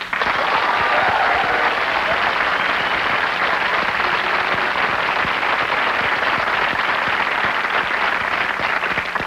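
Comedy club audience applauds in answer to a question during a Bill Hicks set, a long, sustained roar of dense clapping that holds steady and loud from start to finish.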